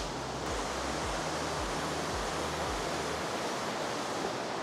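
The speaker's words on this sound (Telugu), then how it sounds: "హెవీ ఫాల్స్ వస్తున్నాయి" Heavy waterfall pouring with a dense, constant rushing roar, a low rhythmic thumping beneath it at the start, no voices.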